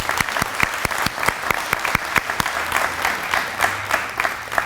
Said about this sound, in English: Let's give Heather another round of applause